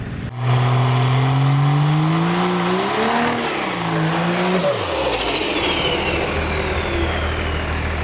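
A 1957 Ford F100 pickup fitted with a Cummins common rail diesel engine starts with a loud, rising engine roar, climbs and falls through revs, then drops back to a lower steady run, close by and with no talk.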